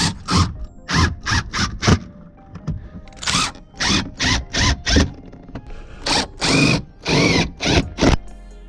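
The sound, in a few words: drilling through plastic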